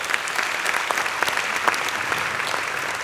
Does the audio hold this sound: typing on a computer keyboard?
no